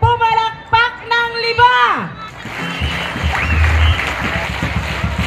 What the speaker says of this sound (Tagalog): Pag excited, pumalakpak ng